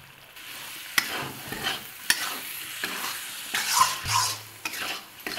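A spoon stirs chicken curry with tomato and salt in a pan, with soft sizzling underneath and several sharp clinks of metal against the pan at irregular intervals.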